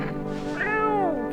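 A cat in the horror video game No, I'm Not a Human gives a single drawn-out meow that rises and then falls, clear and close over a steady droning game soundscape.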